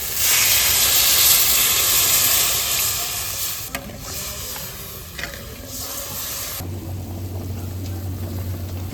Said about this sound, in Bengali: এখন আমি জল দিয়ে দেব।